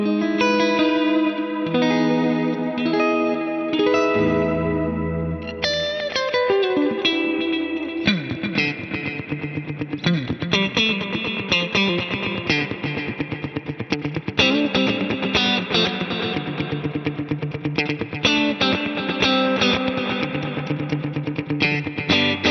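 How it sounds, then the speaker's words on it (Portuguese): An electric guitar plays through a Strymon Volante effects pedal set to heavy reverb and chorus, with sustained chords and melodic lines in lush, washing ambience and long echoing tails, close and loud, without talk. "Se eu colocar bastante reverb e aumentar a quantidade de coros, aí que eu me perco numa imensidão,"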